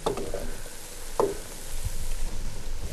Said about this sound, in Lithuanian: Šampinjonai, kitaip tariant, pievagrybiai, kepa su sviestu keptuvėje